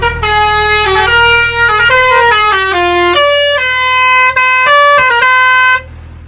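A custom Basuri vehicle horn with compressor plays a loud, close melodic sequence of stepped musical tones during a soundcheck, then cuts off abruptly.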